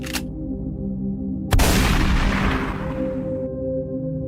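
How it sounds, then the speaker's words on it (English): One sharp, loud gunshot-like bang with a long rolling echo that fades over a few seconds, over a steady low hum. "Then gunshots ring out."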